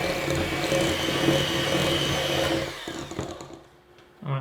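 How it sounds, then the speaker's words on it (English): An electric mixer beats softened cream cheese and egg yolk for a cheese Danish filling, a loud steady whirring drone close by that cuts off after about three seconds, followed by a few faint bumps. "And we'll come in with a mixer"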